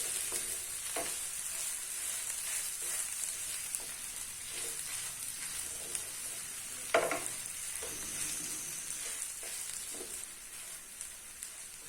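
Grated boiled potatoes are stirred into a sizzling mixture in a frying pan for pinwheel samosa filling, a steady hiss of frying broken by soft scraping stir strokes, close and moderate.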